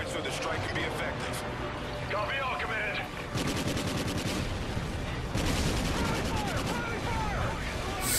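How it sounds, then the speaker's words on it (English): Sustained automatic gunfire from Call of Duty: Ghosts during a combat mission, a dense rattle of rapid bursts running throughout and intensifying in the second half, with voices talking over the shooting. "I shot my own guys like 40 times."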